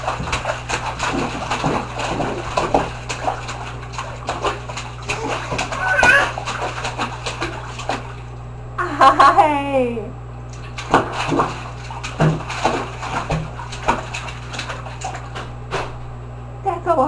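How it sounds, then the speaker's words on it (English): A baby splashing in bathwater, with irregular bursts of slaps and splatter over a constant background hum, mixed with a child's babbling and squeals. "That's a lot of splashing."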